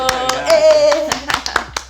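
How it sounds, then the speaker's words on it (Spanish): A few scattered hand claps ring out close by, irregular and sparse, while a voice briefly speaks over them. "¡Aplausos!"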